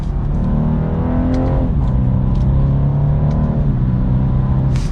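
Engine and exhaust of a 2023 BMW 230i M Sport accelerating hard, a loud continuous drone climbing in pitch through two gear shifts.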